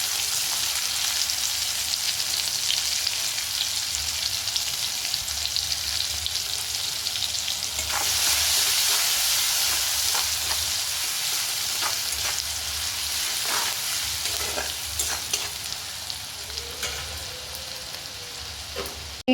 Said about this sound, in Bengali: তেলের ভিতরে কুচিয়ে রাখা পেঁয়াজ দিয়ে দেব।